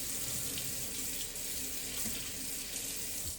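Water runs steadily from a kitchen tap into a pot for beef and tomato soup, a continuous close hiss and splash that holds level throughout with no talking.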